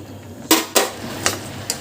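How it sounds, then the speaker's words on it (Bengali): Coconut and milk mixture for Bengali narkel naru being stirred in a pan: a few distinct clanks and scrapes of a utensil against metal, about four knocks spaced irregularly over a low hum. "মাঝে মাঝে এভাবে একটু নাড়িয়ে দিলেই হবে।"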